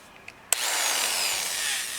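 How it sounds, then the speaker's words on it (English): After a couple of small taps, a corded electric drill with a 1/2 inch bit bites into wood with a sharp onset, then grinds and whirs steadily, close and fairly loud. "Going old school with a electric drill because I can't find my battery one."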